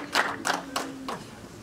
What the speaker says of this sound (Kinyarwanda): Nawe bagukomera amashyi wamfura we,